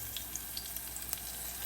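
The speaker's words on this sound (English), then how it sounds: "So I'm adding about a cup of water." Water hisses and sizzles as it is poured into a hot pan of guava curry spiced with red chili powder, turmeric and coriander powder, a soft steady rush with faint pops and crackles throughout.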